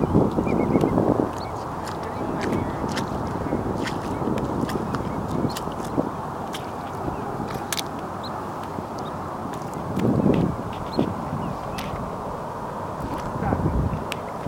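Ducks or geese honk and quack outdoors in several bursts, moderately close, mixed with people talking and a constant background hum.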